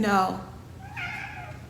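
A single drawn-out cat meow, close and clear, falling in pitch, followed by a fainter, higher second cry.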